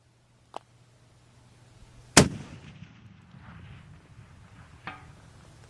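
A .50 BMG rifle fires a single loud, sharp shot outdoors during an indirect fire demonstration, followed by a rolling echo and a faint distant impact a few seconds later; small clicks precede it.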